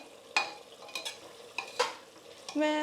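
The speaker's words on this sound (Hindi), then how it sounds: "मटन भुनाई कर रहा है, तो इसमें काफ़ी ज़्यादा भुनाई की ज़रूरत पड़ेगी" Mutton being stirred and fried in a pan, with sharp metal spoon scrapes and clinks against the pan at irregular intervals over a soft sizzle, close up and without talking.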